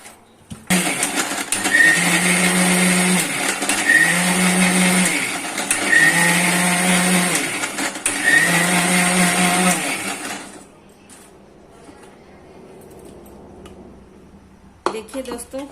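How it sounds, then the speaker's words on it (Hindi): An electric mixer grinder loudly whirs through a tomato, garlic and chilli chutney in four pulsed bursts of about two seconds each, then switches off, leaving quiet handling noise and a brief clatter at the end. "अब मैं इसको बंद करके मिक्सर में पीस लेती हूँ।"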